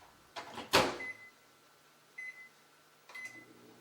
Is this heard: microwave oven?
yes